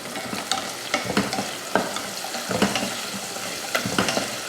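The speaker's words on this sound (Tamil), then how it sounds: "வெங்காயத்தை நல்லா வதக்கிடலாம்." Onions and green chillies fry in an oiled pan, a continuous soft sizzle broken by repeated scraping stirs of a spatula, close by and fairly quiet.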